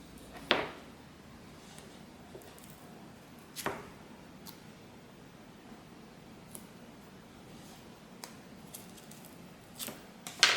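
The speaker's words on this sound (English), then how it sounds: "Just cut those little ends off." Scissors snip loose thread ends off fabric while a handbag is sewn, giving a few sharp, isolated clicks spaced seconds apart against a quiet room.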